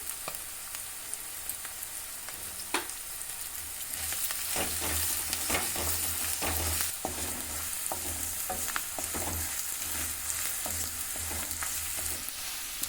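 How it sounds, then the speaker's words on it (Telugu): Peanuts fry in a pan for an okra and fresh coconut curry, a soft steady sizzle broken by repeated sharp scrapes and clinks of a spoon stirring, fairly quiet and close. "పల్లీలు మంచిగా గోలించుకోవాలి"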